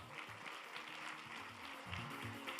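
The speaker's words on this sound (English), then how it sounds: "Let's give our sponsors a round applause." At the Miss Malaysia Indian Global 2018 pageant, an audience gives a round of applause for the sponsors: a brisk, continuous clatter of clapping, fairly faint, mixed with low background sound.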